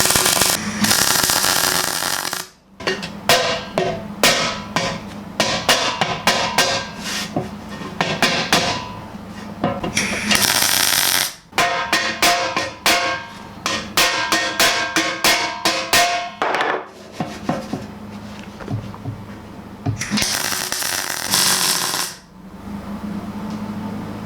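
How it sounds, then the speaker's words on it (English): Tack welding 2mm steel panels at the corners, loud bursts of welding crackle and rapid popping in repeated runs separated by short silences, close and harsh. "put a hefty tack in each corner here"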